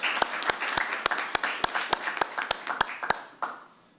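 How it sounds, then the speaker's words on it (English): A group at a police services board meeting gives a round of applause, with clear, evenly spaced claps over roughly three seconds before they stop abruptly and leave a fading room tone. "a round of applause"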